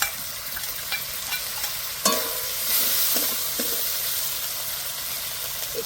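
Green chili paste frying with ginger and garlic paste in a pan, a steady close sizzle with stirring scrapes and a sharp crackle burst as the paste goes in.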